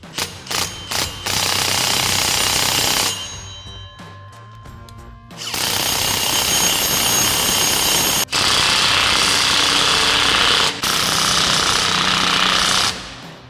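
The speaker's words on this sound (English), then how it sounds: "take a 19mm socket and tighten these down evenly" A 19mm socket on a power tool hammers sway bar bolts tight while installing a Hellwig adjustable tubular rear sway bar on a 2015-2023 Ford F-150. Three short rattling bursts come first, then several long, loud, close-up runs of impact hammering.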